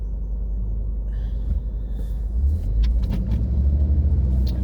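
A car drives along a road in a windstorm, giving a steady, heavy low rumble of road and wind noise that swells slightly midway, with no voices.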